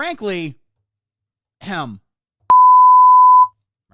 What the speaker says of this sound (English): that is a piercing beep right there